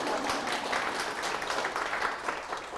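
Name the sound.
audience applause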